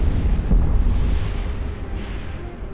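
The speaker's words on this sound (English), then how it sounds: "I wonder why the explosion is always separate from where the wreck appears" Deep booming explosions from spaceship combat in the video game EVE Online roll out loudly, one heavy blast near the start followed by rumbling, decaying thunder-like booms.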